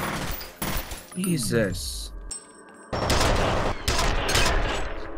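Rapid automatic gunfire from the F.E.A.R. shooter game, loud bursts broken by brief pauses, with someone speaking over part of it.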